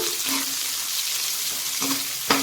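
Sliced onions fry in a pan with a constant close crackle. A few short clinks and scrapes of stirring break through, the sharpest near the end, and there is no talk.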